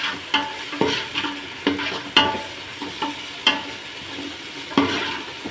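Rice with ginger paste being stirred in a pot for coconut milk rice, sounding as repeated loud spoon scrapes and knocks at a loose rhythm over a light sizzle, close up, no one speaking.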